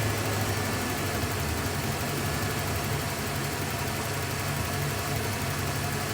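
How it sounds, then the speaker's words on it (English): A car engine idling roughly and misfiring as fuel pressure drops during troubleshooting with a fuel pressure gauge, a constant close mechanical drone with an uneven, stumbling low rumble and no voices. "It's running rougher when I do that."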